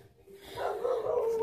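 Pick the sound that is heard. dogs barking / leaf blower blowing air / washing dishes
dogs barking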